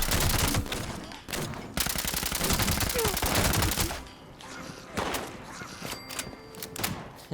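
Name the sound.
gunfire in Fallout 76 video game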